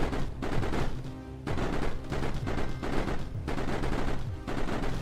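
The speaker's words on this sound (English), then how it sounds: "And shooting out all of my homing missiles" Rapid bursts of homing missiles firing in the strategy game Mindustry, a dense crackling barrage in repeated waves, loud and close, with no voices.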